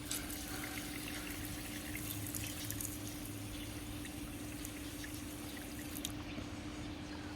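Water poured out for black cockatoos during a desert park walk, a faint steady trickling and splashing that runs for several seconds against a low outdoor hum.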